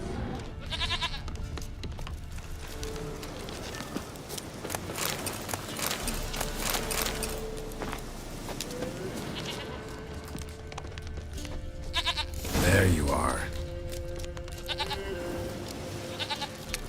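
A goat bleats in The Witcher 3 amid game ambience, with hoof clip-clop and a louder burst near the end; someone speaks briefly.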